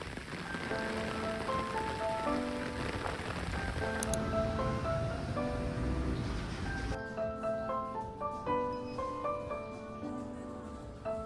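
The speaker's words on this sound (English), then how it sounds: "Rain ASMR." Steady rain patters on a surface without pause, with soft tonal chimes ringing faintly underneath.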